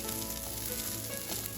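Meat sizzles loudly in a pan as broth is ladled in and stirred, a steady dense frying hiss that fills the whole short stretch without pause.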